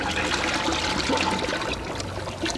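Dead Sea mud being added to water for patchouli mud soap, a steady close pouring and trickling of liquid that runs for a couple of seconds with no voices.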